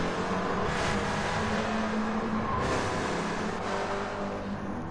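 Race car engines drone steadily in a sim-racing game, Toyota MR2 GT cars lapping Interlagos, a continuous dense engine roar with slight pitch shifts as cars pass, loud and unbroken throughout.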